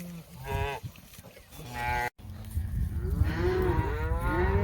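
Cows on a ranch moo repeatedly, with two drawn-out calls up close followed after a short gap by a chorus of overlapping lowing from the herd.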